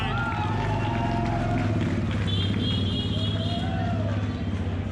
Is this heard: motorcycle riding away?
yes